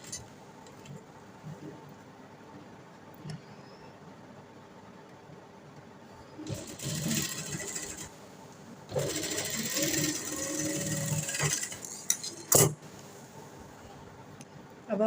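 A sewing machine stitches a round V-neck on fabric in bursts, with a faint hum between runs, then a longer rattling run of stitches and a sharp click near the end, all close by.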